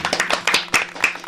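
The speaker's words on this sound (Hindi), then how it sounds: "जिसके लिए हम एक बार तालियां बजा दें।" Studio audience on a Hindi talk show clapping together, a dense burst of applause lasting about a second with uneven loud peaks.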